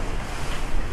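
Rough sea around a sailing boat under sail with no motor in 25 to 40 knot winds: loud, continuous rushing of waves and spray mixed with heavy wind buffeting the microphone.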